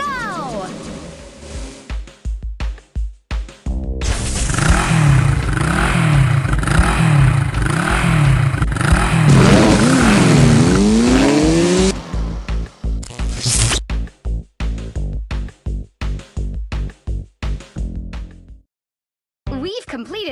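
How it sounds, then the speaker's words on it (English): Cartoon engine revving and racing sounds from a Blaze and the Monster Machines mobile game, a loud sustained roar with rising whines lasting several seconds, then choppy bursts of game effects and music. "Tap and hold this button to rev up your engine and see Watts go!"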